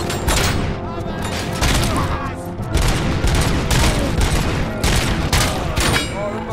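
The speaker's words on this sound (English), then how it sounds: "Oh, shit, somebody's shooting me." Dense, loud gunfire in the Robocop video game, with rapid fusillades and booming shots stacked in continuous bursts, and a voice talking over the action.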